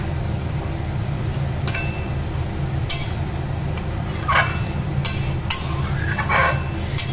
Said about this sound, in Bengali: এবার মা ভালো করে নেড়ে নিচ্ছে।